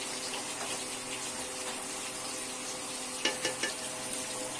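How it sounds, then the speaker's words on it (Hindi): Chicken fries slowly over a medium flame, a soft, continuous sizzle with a few quiet scraping and tapping sounds from stirring near the end. "ये देखिए फ्रेंड, हमारा चिकन अच्छे तरीके से भून रहा है धीरे धीरे।"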